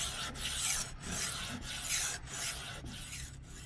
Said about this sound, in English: the front stroke is actually the sharpening part. A little more weight on it and following through.